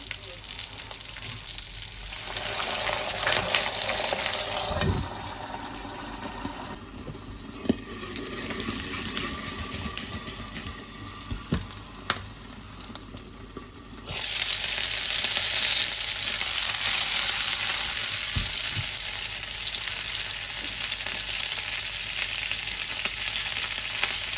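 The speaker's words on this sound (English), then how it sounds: "Let's fry the dumplings that I made the other day." Homemade dumplings frying in a pan, a loud continuous sizzle with crackling bursts and a surge in intensity partway through, with no talking.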